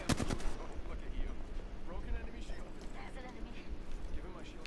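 Rapid bursts of video game gunfire from an arena shooter play under continuous, excited talk from players, with sharp loud shots near the start giving way to a dense, busy mix of distant firing.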